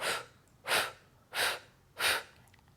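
Four strong, airy exhalations at an even pace, each a short breathy push during a seated yoga twist, close and clear with quiet pauses between.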